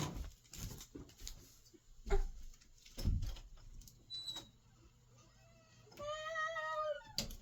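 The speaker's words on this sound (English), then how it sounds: "I have a cat screaming at me." A house cat gives a loud, drawn-out meow near the end, after several seconds of faint tapping and shuffling indoors.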